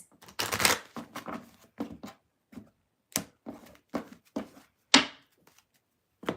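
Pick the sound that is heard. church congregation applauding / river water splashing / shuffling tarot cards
shuffling tarot cards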